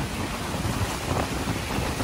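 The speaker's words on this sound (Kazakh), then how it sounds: "Қандай ағын су" A mountain stream flows nearby on a horseback trip, a continuous broadband rush of water with no voices, steady and fairly loud throughout.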